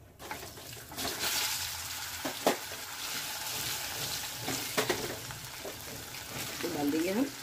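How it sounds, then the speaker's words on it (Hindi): Boiled potatoes fry in hot oil with crackled mustard seeds for Gujarati-style sweet and tangy aloo, giving a steady close sizzle broken by stirring scrapes and spoon clatter. "उसको हम तेल में फ्राई करेंगे।"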